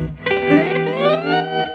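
A distorted, wavering electric tone from a guitar effects pedal, with shifting harmonics, sounding warped and lo-fi, buzzing steadily for a couple of seconds.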